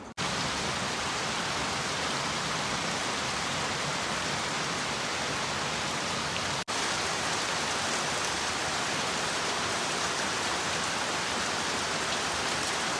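Steady, even rain pours down continuously, a dense hiss of drops on surfaces with no pauses throughout.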